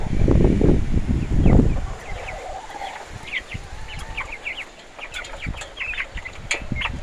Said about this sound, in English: These are the chicks my wife was talking about